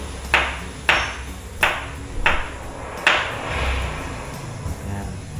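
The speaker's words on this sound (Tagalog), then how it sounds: "Sounds ng cellphone ni namin." Cellphone notification sounds at home in a kitchen, six sharp bright pings spaced roughly every 0.7 seconds, clear and fairly close over low background hum.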